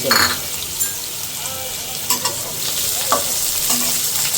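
Vegetables fry lightly in a pan with a steady, close broadband sizzle, broken by a few sharp scrapes and knocks of stirring.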